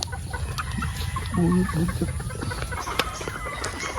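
A Paul Spark Gray gamecock stag, four months and three weeks old, clucks in a short burst of low calls over steady farmyard background noise.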